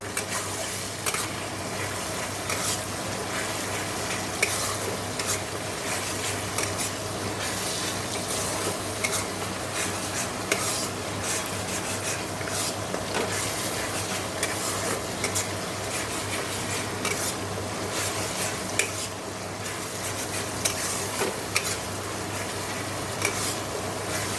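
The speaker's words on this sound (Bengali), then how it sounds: "চলো মাংসের মশলাটা ভালোভাবে কষিয়ে নিই" Meat masala is stirred and fried down in a pan, giving a steady sizzle with repeated scraping and stirring strokes from start to finish.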